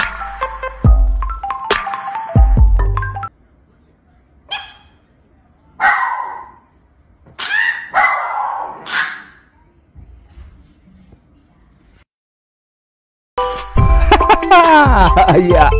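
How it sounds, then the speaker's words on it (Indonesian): A dog gives odd, strangled yelps and bark-like cries in short bursts with quiet gaps between, closing with a louder stretch of mixed yips and voices. "kasihan banget ya anjingnya, sampai lupa cara menggonggong"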